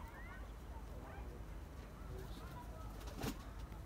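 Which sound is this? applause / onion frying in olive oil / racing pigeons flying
racing pigeons flying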